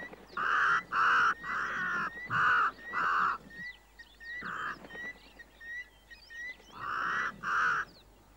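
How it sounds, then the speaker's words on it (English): A crow caws harshly at a waterhole, repeated loud, close calls in uneven bursts with short pauses, faint chirps of other birds between. "The Cory bustard is made unwelcome by a crow."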